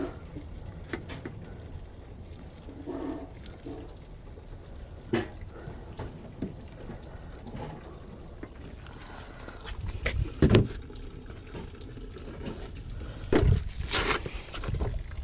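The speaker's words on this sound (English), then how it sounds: "Dump the rest of the dish soap in there." Dawn dish soap and water are poured and flushed through a car's coolant system, with steady running, splashing water and occasional louder gurgles and clunks, and no speech.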